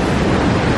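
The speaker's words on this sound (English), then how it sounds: "It's actually a little like turbine under there. What's that called? A water mill?" Water churned by the turbine-like propulsion beneath a cruise ship in the Norwegian fjords at Hellesylt, a loud, constant rushing roar with wind buffeting the microphone.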